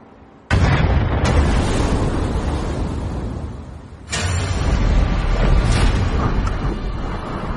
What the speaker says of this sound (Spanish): Llenamos el torpedo con pólvora negra como la pólvora negra de aquella época y preparamos la explosión.